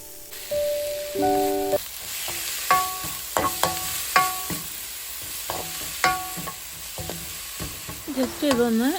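Shredded cabbage sizzles and fries in a pan for Kerala sadya-style cabbage thoran while a utensil stirs it, giving steady crackling with repeated scraping strokes up close.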